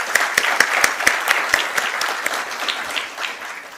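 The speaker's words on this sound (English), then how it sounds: "can we have a huge round of applause to welcome this very historic moment?" Applause at an IPO listing ceremony at the NSE, a lively burst of clapping from a gathered crowd with sharp individual claps that gradually thin out.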